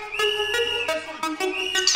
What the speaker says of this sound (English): My whistle crew, my whistle crew. Blow, blow, blow.